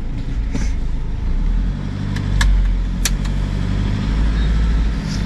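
A motorhome engine idles with a loud, steady low rumble before driving off near the Portugal–Spain border. A few short jangling clinks sound close by over it, and no one speaks.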